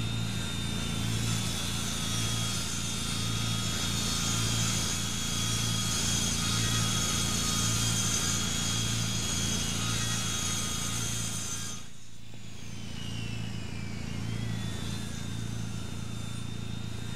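A chainsaw in Ranch Simulator runs steadily at a loud idle-to-cutting drone while trees are cut into boards, dipping briefly as the engine note drops, then revving back up with a rising whine.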